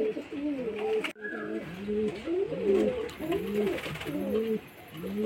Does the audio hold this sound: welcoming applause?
no